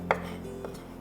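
A knife strikes a cutting board once, crisp and close, while soba noodles are cut for a Japanese cooking exam dish. A softer second tap follows against a quiet kitchen background.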